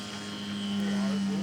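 Electric 1/12 scale model airplane, an 84-inch, 13.5-pound craft, flying with a steady droning motor hum that swells slightly louder, people talking underneath.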